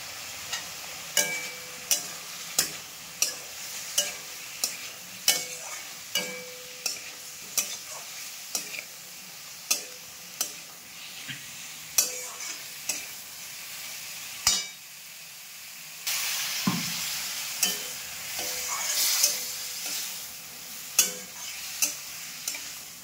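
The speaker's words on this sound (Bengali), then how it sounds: "এবারে ওল আর আলুটা কড়াইতে ছেড়ে দিলাম।" Elephant foot yam and potato fry in oil in a wok, a constant close sizzle punctuated by regular scraping clacks of stirring, with a louder burst of frying partway through.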